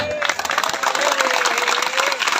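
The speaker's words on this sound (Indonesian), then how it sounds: "Tepuk tangan dong." Applause from a crowd at an Islamic religious lecture gathering, a dense, lively patter of clapping running the whole moment, with a faint voice or tone threading through underneath.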